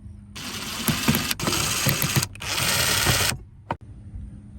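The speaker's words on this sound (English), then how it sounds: "we're just going to take out these top 4 Phillips head screws that surround the plastic of the glove box" A powered driver backs Phillips head screws out of the plastic glove box surround of an Infiniti G37, whirring in two close, sustained bursts followed by one brief final buzz, with quiet pauses between.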